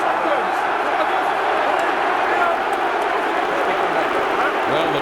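Rugby crowd at Twickenham during England vs All Blacks in 2009, a steady loud roar of many voices filling the stadium, with no single voice standing out.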